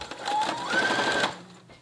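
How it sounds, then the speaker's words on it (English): A sewing machine runs a long straight stitch in one short whirring burst of about a second, fairly loud and near, then stops with a faint click. "I'm gonna go over to my sewing machine and put a long straight stitch right here down that middle."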